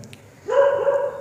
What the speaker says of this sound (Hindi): भौंक रहे हैं कुत्ते